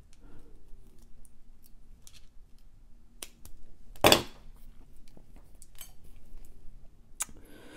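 Scissors snip through a beaded bracelet cord once, a single sharp close cut amid quiet handling clicks.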